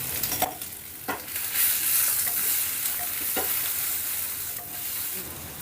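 Okra pieces fry steadily in a pan, a continuous sizzle with a few sharp stirring scrapes and clicks at intervals, close and fairly loud.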